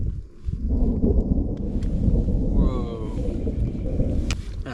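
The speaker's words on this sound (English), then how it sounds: "That thunder's a little too close for comfort." Low, heavy thunder rumbles close by during a mountain hike in Yosemite, a continuous loud roll lasting several seconds, with a voice briefly exclaiming over it.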